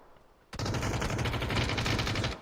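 Automatic gunfire in the battle royale shooter PUBG, starting abruptly as a rapid, steady burst of loud, close shots that lasts nearly two seconds, then stops, with no talking.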